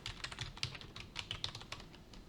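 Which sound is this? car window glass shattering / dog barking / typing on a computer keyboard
typing on a computer keyboard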